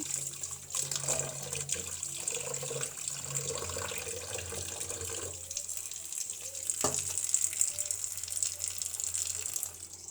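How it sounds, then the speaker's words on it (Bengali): Tap water runs steadily into a sink as flat beans are rinsed by hand, with soft splashing and a few light knocks of the beans against a bowl throughout, no voices. "এদিক দিয়ে আমি সিমটা সুন্দর করে ধুয়ে লবণ দিয়ে সিদ্ধ বসানোর জন্য রেডি করতেছি।"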